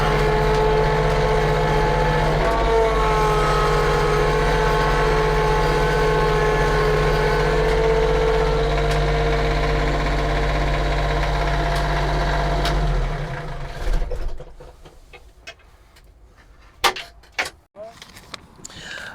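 A Kioti CS2220 compact tractor engine runs loud and steady, driving in high reverse with a droning tonal hum, then winds down and cuts out, leaving faint clicks and knocks in near silence.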